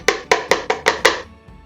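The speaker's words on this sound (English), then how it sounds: "put the rest of the flour into the sieve" Six sharp, evenly spaced taps from sieving flour for a Christmas cake, the sieve knocked against a bowl in a quick close rhythm, then fading, with no talking.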